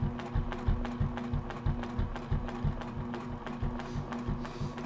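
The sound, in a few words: sewing machine stitching in the ditch on quilt block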